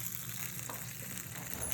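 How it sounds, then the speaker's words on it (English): Stuffed tomatoes sizzle in a hot pan, a quiet, steady frying hiss with faint crackles, heard up close and without any talking. "you can hear it sizzle."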